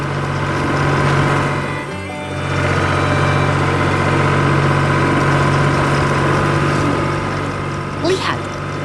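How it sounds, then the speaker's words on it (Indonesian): A blue truck and farm machinery in a farm cartoon run with a steady, loud engine drone and idle, interrupted by one brief dip, with a short high squeak near the end. "Lihat, truk biru dan mesin pertanian bekerja keras di pertanian yang hidup."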